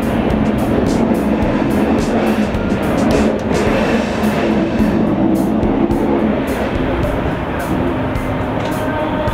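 A train pulls into Indore Junction, a loud, continuous rumble of wheels and carriages with rhythmic rail clatter and steady mechanical noise close by throughout.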